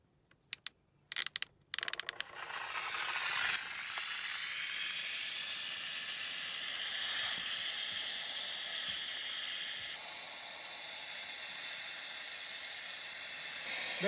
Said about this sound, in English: So let's give this steamer a whirl.